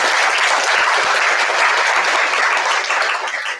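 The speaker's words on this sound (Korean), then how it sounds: "행복한 가정 이루라고 응원의 박수를 부탁드리겠습니다." A church congregation applauds a newlywed couple, a loud, dense and continuous burst of clapping that tapers off slightly at the close.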